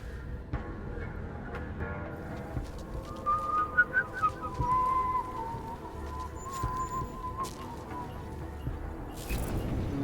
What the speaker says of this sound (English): I could do without all that whistling.